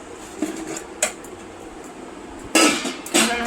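Boiled potatoes lifted out of a cooking pot in a home kitchen, with metal utensils knocking and scraping against the pot and dishes in several close, loud clatters over a low background hum.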